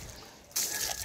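Water is poured out abruptly while washing a Toyota Fortuner D4D, a sudden close splash and rushing trickle starting halfway through a brief quiet moment.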